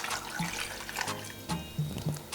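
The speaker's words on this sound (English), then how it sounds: "Now I'm going to add water to it." Water runs and splashes into a cooking pot for zucchini baby food puree, a soft continuous pour with small gurgles, fairly faint and heard alone.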